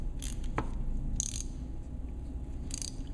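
A ratcheting driver advancing an Acumed Dual Trak screw into a sawbones bone model, giving three short, crisp clicking bursts spaced about a second apart over a quiet steady background hum.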